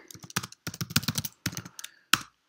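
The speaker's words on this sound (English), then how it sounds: "You can probably just hear me typing" Rapid clacking of keys on a computer keyboard, typed in short uneven bursts with brief pauses between them, close and fairly quiet.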